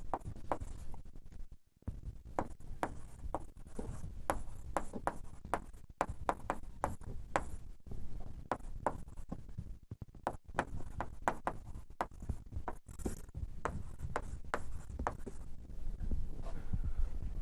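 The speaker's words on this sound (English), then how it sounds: "I'll just write this down in a bit of a funny way" Chalk or a marker taps and scratches on a board during a physics lecture on dark matter, with dense irregular strokes at moderate distance against steady room noise.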